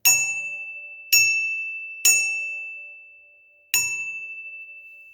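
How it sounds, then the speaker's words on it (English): A small Japanese bell mounted on a drum kit rings four times alone, each clear bright strike ringing out with a sustained tone and slowly decaying before the next. "This is a Japanese bell that I found"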